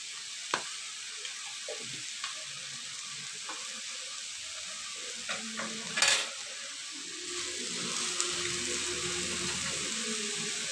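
Black pepper and cumin are stirred in a frying pan for a duck stuffing, giving a soft, quiet sizzle broken by occasional scraping clicks, with a fuller frying hiss building toward the end.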